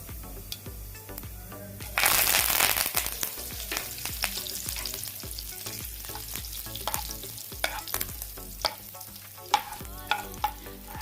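Cumin seeds and curry leaves fry in hot oil, a loud burst of sizzling at about two seconds giving way to steady crackling with scattered sharp pops and stirring clatter throughout.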